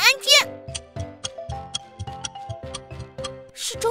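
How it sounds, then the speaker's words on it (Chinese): A ticking alarm clock hidden somewhere in a room gives a steady run of short, sharp ticks about every quarter second. A voice and other brief sounds come at the start and end. "是钟表的声音，就在墙上的照片里"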